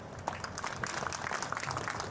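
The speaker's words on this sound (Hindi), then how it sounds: "इसलिए मैं चाहूंगा कि आप लोग अपने लिए एक बार जोरदार तालियां हो जाए।" Audience applause at an agricultural crop show event, a faint, steady patter of many hands clapping continuously from a distance, with no talk over it.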